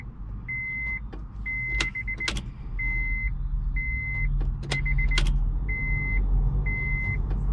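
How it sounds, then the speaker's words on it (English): A fuel pump primes in a late-1990s Honda CR-V with a replaced engine: a steady electric whir runs in repeated short bursts over a low hum, with a few sharp clicks in between and no voices. "Let's prime this fuel pump a couple times."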